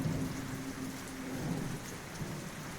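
Heavy rain pours down steadily on a dark night, with a low rumble of thunder rolling underneath. The dense, constant downpour fills the scene without any voices.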